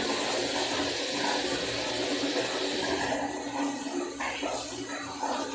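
Water gushes steadily from a broken, detached pipe, a loud continuous rushing hiss that holds for several seconds with slight shifts in tone near the end.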